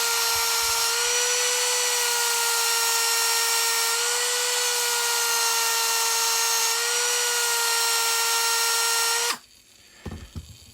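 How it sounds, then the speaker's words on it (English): A Dremel rotary tool whines steadily at high pitch against dirty model locomotive wheels for about nine seconds, close and loud, then cuts off abruptly, leaving a few faint handling knocks. "this time we'll just start with the Dremel because we know they're very dirty"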